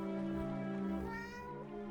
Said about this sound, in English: Oh, kitty.